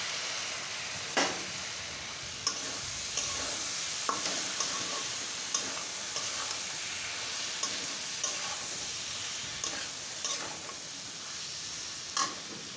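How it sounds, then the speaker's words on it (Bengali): A spice paste of ground cumin and ginger sizzles and hisses steadily in a hot pan, with soft stirring clicks from a utensil at intervals, quiet and close, with no talk. "এর মধ্যে এই মশলাটা দিয়ে দেবো।"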